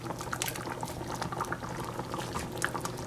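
Fried fish pieces go into a pot of simmering Guyanese-style fish curry. Steady, close bubbling and gentle liquid churning run throughout, with small wet splashes as the pieces settle in.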